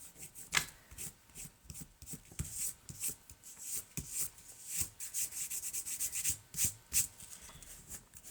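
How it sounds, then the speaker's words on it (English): A finger rubs excess glue off a junk journal page with soft, repeated scratchy strokes, close up and fairly quiet, in an uneven rhythm. "I have some extra glue right here, and if I catch it in time, I can just rub it until it rolls off."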